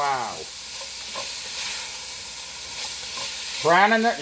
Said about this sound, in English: Going in with my smoked kielbasa.